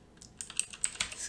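Computer keyboard typed on up close, a quick burst of a handful of crisp key clicks.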